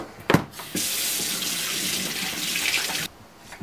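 A kitchen tap runs in a steady, hissing stream for a few seconds while something is rinsed during tiramisu making; a couple of knocks come just before the flow starts.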